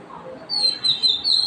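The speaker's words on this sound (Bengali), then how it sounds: "পাখিটা এসে আমাকে গান শোনায়" A small bird sings high, thin chirping phrases in repeated bursts close by, over a soft background hum in a home kitchen where chicken is being stirred and cooked.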